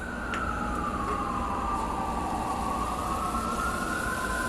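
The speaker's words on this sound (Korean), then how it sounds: "소방차가 막 지나간다." A fire engine siren wails along a rainy New York street near Times Square, its tone sliding steadily downward as it passes over a constant roar of traffic.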